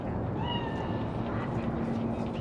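A cat meows inside the video game Cyberpunk 2077, with drawn-out tonal cries rising over a dense, steady game soundscape and a low background hum.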